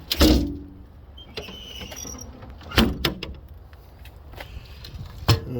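Latches and a sliding compartment panel on a Freightliner FL50 rescue pumper truck give three sharp metallic clacks and clunks, near and spaced apart, with faint rattling and handling noise between them.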